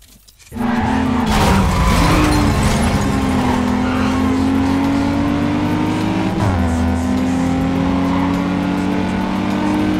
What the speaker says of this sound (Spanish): Yo creo que ahora lo que suena mucho es el coche.